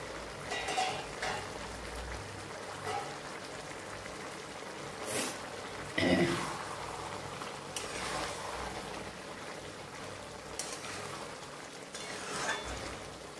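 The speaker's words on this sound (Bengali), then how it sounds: "এখন ঢাকনা খুলে দেখে নিই।" A lid comes off a pot of simmering green papaya and frozen peas in a home kitchen, giving a few short metallic clinks and clatters over a steady, soft bubbling hiss, with no voices.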